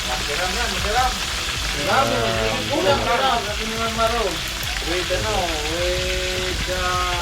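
Lapu-lapu (grouper) fish frying in a pan, a steady loud sizzle running throughout with people talking over it.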